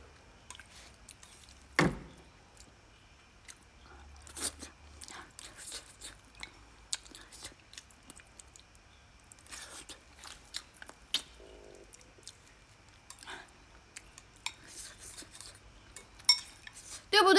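Someone eats noodles up close, with scattered clinks of cutlery against a bowl mixed with soft chewing and slurping at an irregular pace over a quiet background.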